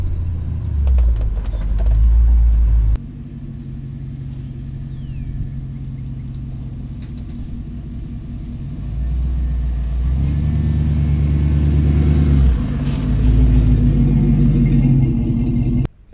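1995 Ford Bronco with a V8 engine driving off-road near a beach, its loud, close engine rumble rising and falling as it revs and accelerates, with a sustained tonal whine through the middle and no talking.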